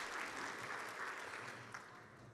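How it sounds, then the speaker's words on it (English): A church audience applauds Bible study finishers, with quiet, steady clapping from a room of people that fades slightly toward the end. "Let's give them another hand. Another round of applause."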